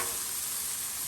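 Bell peppers and onion sizzle loudly and close in a hot pan while being stirred, a dense continuous frying hiss over the brief moment.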